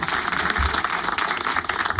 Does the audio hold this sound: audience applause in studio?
yes